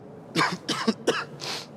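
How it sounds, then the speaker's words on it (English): A person coughs several times in a row during a casual bilingual conversation, sharp close bursts followed by a softer throat clearing at the end, with no speech over them. "I didn't hear you, you coughed."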